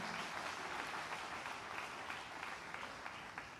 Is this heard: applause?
yes